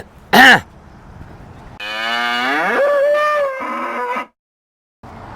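A bull gives a brief sharp call, then a long, loud, drawn-out moo that bends in pitch before cutting off into near silence.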